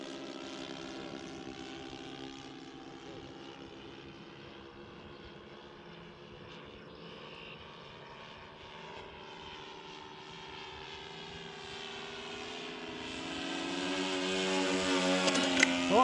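An RC model Grumman Skyrocket plane with its motors at about a third throttle, a steady buzzing whine that stays continuous and gradually swells louder and nearer toward the end, with no talking.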